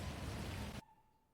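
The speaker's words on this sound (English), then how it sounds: "I love the rain. I like the sound of the rain." Steady rain hisses loudly in a GTA roleplay game, then cuts off abruptly after less than a second, leaving only a faint hum.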